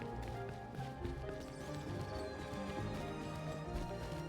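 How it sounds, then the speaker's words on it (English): A horse in the game Rust trots with a busy clip-clop of hooves amid dense game ambience, with a whinny mixed in, steady and fairly faint throughout. "There's a horse"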